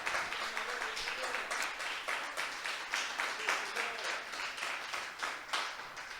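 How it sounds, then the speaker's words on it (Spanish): A church congregation applauds during a Spanish-language sermon, a fairly quiet and somewhat uneven patter of clapping with rhythmic swells, fainter and more scattered than a full ovation. "Si le va a aplaudir, apláudale al Señor"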